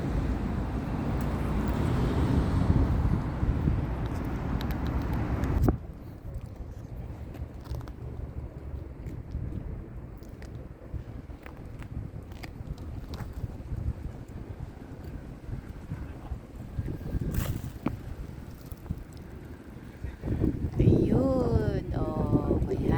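Gusty wind buffeting the microphone in a heavy roar outdoors near a downtown, easing to a softer rush before picking up again, with faint voices and distant traffic.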